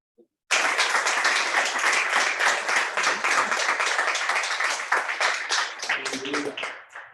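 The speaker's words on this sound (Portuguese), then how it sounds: "Você pode dar um forte aplauso" A church congregation at a celebration service claps steadily for several seconds, dense and lively, then the applause thins into scattered claps before fading out.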